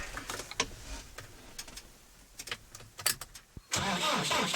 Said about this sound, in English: as the tractor warms up